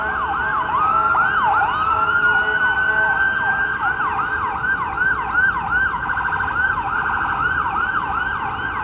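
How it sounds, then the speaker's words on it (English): Ambulance sirens wail on Bay Street in Toronto, with a loud, continuous cycling wail and overlapping rising and falling tones. A second siren joins the first over a low traffic rumble on a wet evening. "A couple of ambulances heading down Bay Street."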